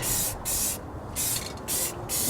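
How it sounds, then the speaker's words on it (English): Black spray paint hisses from an aerosol can onto car engine headers in several close bursts of a second or less, broken by short pauses, with no one talking. "I'm also painting the headers black"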